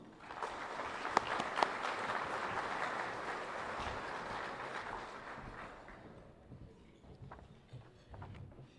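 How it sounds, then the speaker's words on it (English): Applause at an evening induction ceremony as the city mayor is welcomed, a broad sustained roar of clapping from a large audience that thins and tapers off after about six seconds. "Let's give her a round of applause."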